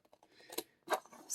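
Scissors snip around the edges of an oracle card from a Vintage Wisdom Oracle deck, giving a few quick, close, quiet cuts with brief pauses between them and no talking.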